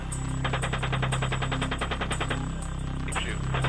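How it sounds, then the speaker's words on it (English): Gunship machine gun fire during a combat engagement; rapid, evenly spaced bursts of shots in a long rattling volley, distant and somewhat muffled over a constant engine drone. "Keep shooting."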